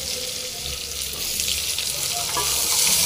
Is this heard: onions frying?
yes